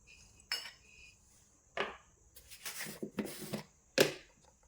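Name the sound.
mixing gram flour and rice flour with ghee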